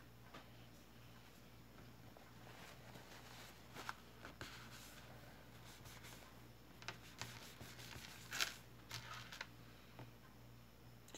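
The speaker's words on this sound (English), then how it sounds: "Go ahead and rub all of this off." Soft, quiet rubbing on a piece of thrift-store jewelry to remove marks, steady scrubbing strokes with a few small clicks and taps in a quiet room.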